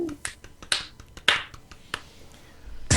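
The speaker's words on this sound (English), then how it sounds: "You're doing the slow clap" A slow clap during a StarCraft II esports match broadcast: several sharp, isolated hand claps spaced unevenly about half a second apart, crisp and fairly close, with a faint background hum.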